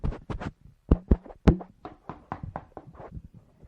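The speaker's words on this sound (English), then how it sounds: "This is me going through the door." Knuckles rap on a door during a 2001 comedy talk show sketch: a quick run of sharp, close knocks in uneven bursts, with no speech.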